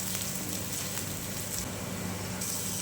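Chopped garlic and ginger sizzling steadily in about three spoonfuls of hot oil, a continuous close crackling hiss with no pauses.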